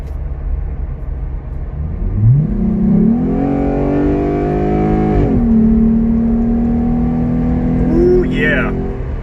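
Jeep Gladiator Overland fitted with an aFe cold air intake, its engine revved hard from idle, the pitch sweeping up, holding, then dropping back before a second, shorter blip, loud and close with a steady low rumble underneath.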